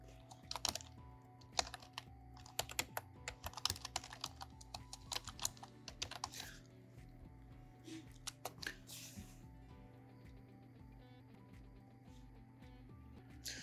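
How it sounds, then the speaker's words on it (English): Keys clatter on a computer keyboard in quick, uneven bursts of close, crisp clicks, thinning out into sparse taps toward the end over a faint steady hum. "All we need to do is just type in monetization enabled."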